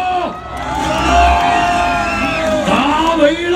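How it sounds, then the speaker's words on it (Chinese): A crowd cheers and whoops at a motorcycle stunt show at a zoo, loud and sustained, with an announcer's amplified voice and engine sounds mixed in. "朋友们这次欢呼声大一点"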